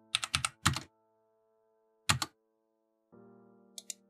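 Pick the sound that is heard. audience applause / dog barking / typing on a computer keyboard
typing on a computer keyboard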